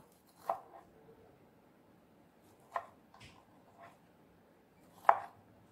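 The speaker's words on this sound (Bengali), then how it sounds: "ঝিঙে পোস্তর মতো করে সাইজ করে ছোট্ট ছোট টুকরো করে ঝিঙেগুলোকে কেটে নেব" A knife chops peeled ridge gourd into small pieces, with four or five crisp, separate cuts spaced irregularly against a quiet background.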